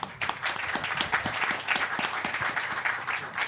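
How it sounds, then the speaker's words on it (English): Sustained applause from a conference audience for panelists at a high-level G20 energy transitions dialogue, a dense, steady patter of many hands clapping nearby for several seconds. "it's time to give great applause to our panelists"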